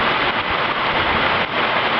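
A short, heavy downpour in Mapleton, Iowa, with hail mixed in, hammering down as dense, steady roaring rain close by, loud and continuous with no pauses.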